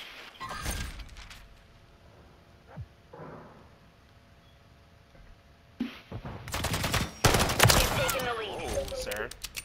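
Call of Duty Modern Warfare III gunfire: one isolated crack early, a lull with quiet talk, then loud, rapid close automatic bursts dominating the final few seconds.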